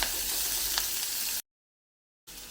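Onions frying in a pan until soft, giving a steady close sizzle, cut off by a brief silent gap before the frying resumes.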